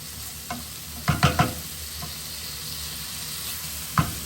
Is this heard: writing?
no